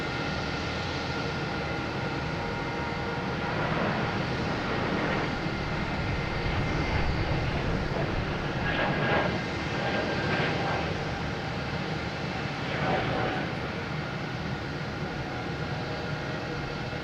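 At Boston Logan, an Alaska Airlines airliner takes off from runway 22 left, a distant, moderate engine rumble holding steady for the whole stretch, with a few brief rushing swells and no voices.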